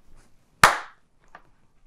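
One sharp hand clap rings out close and loud in a quiet room, decaying quickly, followed by a faint small knock.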